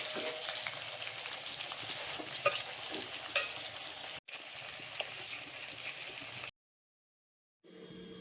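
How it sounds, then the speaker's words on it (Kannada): Chopped vegetables hit a hot tempering for palya and sizzle loudly and steadily, with a few stirring scrapes. The sound cuts to silence near the end, then the sizzle briefly returns. "ತುಂಬಿ ಒಗ್ಗರಣೆಗೆ ಹಾಕಿ ಪಲ್ಯ ಮಾಡೋದೆ"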